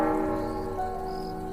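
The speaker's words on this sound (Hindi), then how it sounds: "तभी स्कूल की पुरानी घंटी अपने आप बजी" Old school bell ringing by itself in thick fog: a sustained metallic tone with steady resonant overtones that decays slowly, heard alone.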